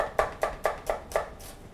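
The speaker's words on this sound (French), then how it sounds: "Je récupère mes 4 oignons et je vais les ciseler très finement." A knife chops onions finely on a board in a cook's kitchen, five crisp, evenly spaced cuts at a moderate, unhurried rhythm, close and quiet, then a softer final stroke.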